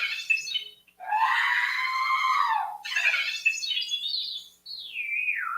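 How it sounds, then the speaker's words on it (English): An astromech droid scream sound effect, triggered from a controller, plays as a series of shrill, warbling electronic squeals and descending whistles, moderately loud and alone. "I put my Scream on the red controller center thing, so I can hit it anytime."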